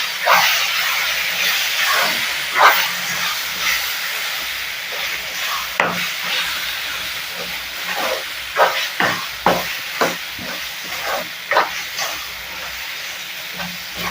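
Fish curry masala with cumin powder being stirred and mixed in a pan, a steady steamy hiss punctuated by repeated scraping and clacking strokes of a spoon, close and fairly loud with no talk.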